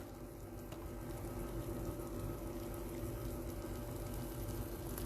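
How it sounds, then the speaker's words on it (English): Vegetables and pasta boil in a pot on a home stove, giving a steady, dense bubbling hiss that holds evenly throughout, with no one speaking. "So the vegetables are boiling right now."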